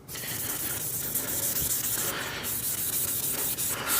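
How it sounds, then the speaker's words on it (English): Close, continuous abrasive scrubbing and hissing as the body paintwork of a Trans Am is sanded down before painting, with strokes that swell and ease slightly and no voices. "Just going to make sure we get everything sanded really well."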